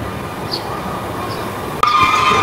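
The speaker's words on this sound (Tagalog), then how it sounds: "Ayan, may bagong dating na train." A train pulls into a platform at a Swiss railway station in Lucerne, a steady rumble of rolling cars followed by a sharper metallic rise near the end, with no voices.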